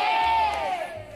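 An audience at an extreme Japanese game show shouts together in a short, loud burst of voices, strongest at the start and then fading.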